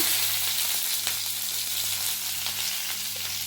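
Cumin, ginger, garlic and chili frying in hot oil give a steady, close sizzle with occasional pops and stirring scrapes, constant and alone without talk.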